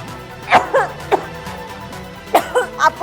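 A few short coughing bursts, close and fairly loud, spaced irregularly with brief pauses between them.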